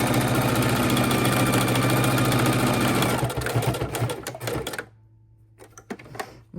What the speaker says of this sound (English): we're going to go ahead and stitch around this beautiful outside pocket